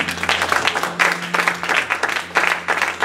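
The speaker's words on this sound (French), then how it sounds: "Et je veux que tu l'acclames" A church congregation applauds during worship, with brisk, dense clapping that comes in repeated swells. The applause is loud and fills the room, with no talk over it.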